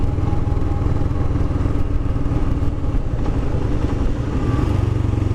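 A Royal Enfield Himalayan motorcycle engine idles and revs steadily with a low, throaty rumble, close by and continuous, with no voices.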